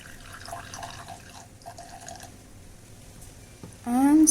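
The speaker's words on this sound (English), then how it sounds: "I'm going to pour it into the glass," Brewed Vietnamese coffee decoction is poured into a glass, giving a faint, steady liquid trickle with small drips, and a voice cuts in loudly at the end.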